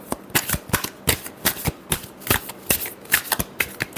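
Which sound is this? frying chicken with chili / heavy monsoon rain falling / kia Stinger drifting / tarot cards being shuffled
tarot cards being shuffled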